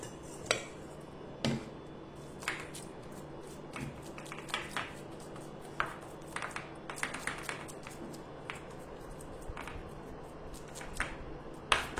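Soft pats and light taps of a hand pressing a steamed-dish mixture evenly onto an oiled metal plate, scattered irregular dabs at close range with a faint steady background hum and no talking.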